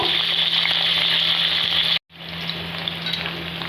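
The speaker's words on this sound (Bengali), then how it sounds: "তা কুমড়োটা দিয়েও ভালো করে নেড়ে নেব" Pumpkin pieces fry in oil with a loud, steady sizzle. The hiss cuts out briefly when they are stirred, then resumes with light scraping. The sound is close, and no voice is heard.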